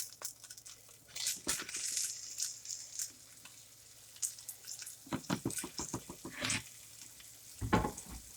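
Six pieces of meat for Swiss steak sizzle and crackle in a frying pan, close and moderately quiet, with irregular bursts and scraping stirs over a steady low fry and no talking.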